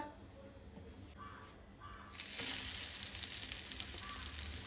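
Oil heating in a pan over a medium gas flame before shallow or deep frying coriander vadi; a soft hiss that swells into a louder, steady sizzle about two seconds in and carries on without speech.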